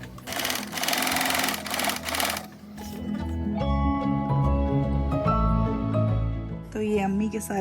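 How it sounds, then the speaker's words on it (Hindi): A sewing machine stitches a frock in a busy home, its rapid whirring run starting loud, then pausing while voices talk over a steadier background. "अम्मा ने बैठे बैठे बातों बातों में फ़्रॉक सिलना भी शुरू कर दिया।"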